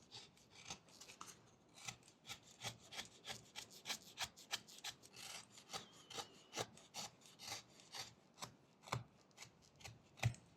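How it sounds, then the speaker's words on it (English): A knife carves small, shallow push cuts into wood while whittling a simple eagle figure, giving a quick series of soft, dry scraping strokes at an uneven rhythm, close and quiet, with no talking. "the most important cut for this step is this very shallow push cut"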